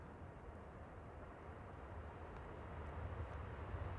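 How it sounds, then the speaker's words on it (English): A KLM airliner departs Manchester Airport at night, a steady, distant jet roar that swells slightly toward the end. "KLM 1038 departing"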